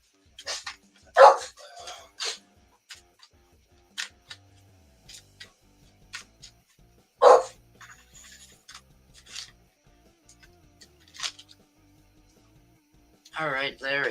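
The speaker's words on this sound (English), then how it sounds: "If you got dogs and my dog gets yours a barking" A dog barks in scattered short bursts, fairly close, between stretches of a person talking, with a few louder yelps near the end.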